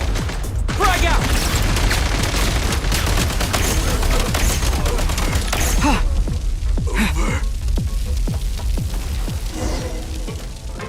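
Heavy gunfire and explosive booms roll through a battle in Genshin Impact. A dense, loud barrage runs for about six seconds and then settles into lower rumbling, with scattered impacts and voices mixed into the din.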